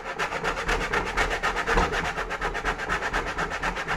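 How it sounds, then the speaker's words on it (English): Stilton cheese is rubbed against a grater in steady, fast scraping strokes, a close, continuous rasping rhythm that lasts the whole four seconds with no speech. "it's certainly not an easy thing to grate"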